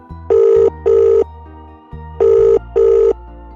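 A cartoon telephone rings in two pairs of loud electronic bursts over a steady background tone, with no voices.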